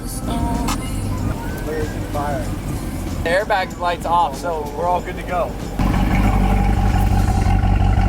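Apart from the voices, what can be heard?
wrecked C8 Corvette engine revving as it drives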